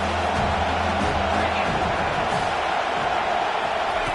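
Football stadium crowd cheering, a steady wide roar of many voices at moderate distance, holding evenly throughout with no clear individual shouts.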